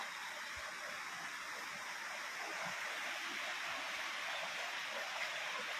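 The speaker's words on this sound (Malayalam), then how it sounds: "റോഡിന് കുറുകെ വെള്ളം ഒഴുകുകയാണിപ്പോൾ." Floodwater from heavy rain pours across a road, a steady broadband rushing wash that stays even and fairly soft for the whole stretch, with no distinct talking.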